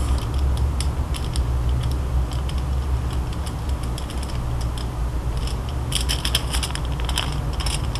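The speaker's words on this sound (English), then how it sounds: "And now I'm going to type or write, "Hello world."" A stylus writes on a sheet of aluminum paper, producing dense, continuous scratchy ticking and crinkling close to the microphone for several seconds, with no speech.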